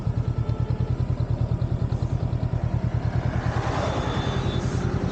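A Honda NX 500 motorcycle rolls along in gear with no throttle, its engine giving a steady low rhythmic thumping at a constant pace, close, with wind rush over it.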